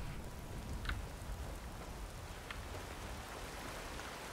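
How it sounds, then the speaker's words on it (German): Steady rain falls in the video game Skyrim, a soft, even hiss of drops filling the scene throughout, with a couple of faint brief ticks and no voices. "Irgendwie ist es jetzt das erste Mal, dass es hier regnet, oder?"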